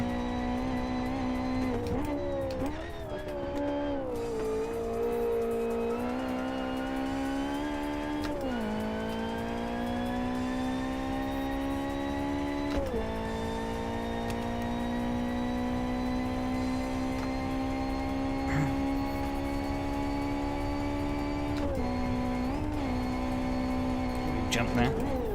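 Front-wheel drive race car in the Assetto Corsa racing game, its engine whining steadily through long held gears with sharp pitch drops at shifts, under continuous talking from a player.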